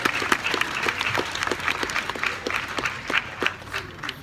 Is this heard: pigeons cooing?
no